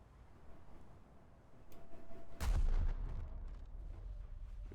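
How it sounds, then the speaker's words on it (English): Main guns of the Mackensen ship fire in War Thunder, one heavy boom that rolls on and decays over a few seconds after a quiet lead-in, with no talk. "Let me just do one shot to help it out a little bit."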